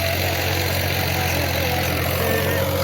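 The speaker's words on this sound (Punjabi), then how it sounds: "ਤੁਹਾਨੂੰ ਆਵਾਜ਼ ਆ ਰਹੀ ਹੋਣੀ ਆ ਟਰੈਕਟਰ ਦੀ" A tractor engine runs steadily at idle in a hot village farm setting, a constant low rumble with a strong hum and vibration throughout, with no speech over it.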